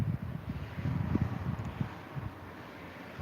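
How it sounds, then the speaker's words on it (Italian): Wind buffets the microphone outdoors on a warm summer day in southern Italy, a steady low rumble with gusty swells and no voices. "Oggi ci sta un po' di vento ragazzi"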